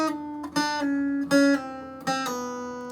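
On an acoustic guitar, notes ring out on the second string in a hammer-on and pull-off exercise, with several clear plucked attacks and legato changes of pitch between them, played alone and close.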